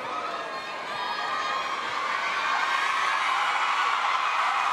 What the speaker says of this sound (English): Bea de Leon makes the crowd go wild with that regalo